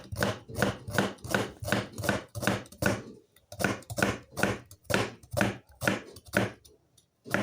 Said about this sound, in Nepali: अब हरियो प्याज, सुकेको प्याज काटेर मैले किमाको लागि रेडी गर्दैछु।